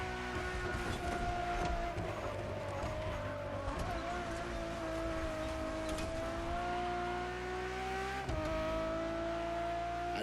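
A Ferrari Enzo supercar driving, its engine holding a steady sustained drone with slowly shifting pitch and a brief dip near the end, heard alone at moderate distance.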